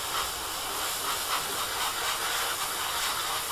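Steady, close hiss of blowing air drying a freshly washed part from a Hobby Boss 1/48 A-10A model kit, an unbroken breathy rush lasting throughout.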